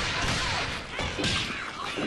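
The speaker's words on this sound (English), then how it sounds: "Oh shit, it's a bomb." A bomb strikes a fighter in the Skullgirls fighting game, giving a dense, loud crash and thud burst with a swooshing sweep midway through a short, busy stretch of game noise.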